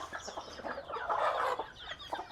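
Chickens cluck in a rural Thai farmyard during heavy hail and rain, a busy flock calling in short overlapping clucks close to the listener, with no talk.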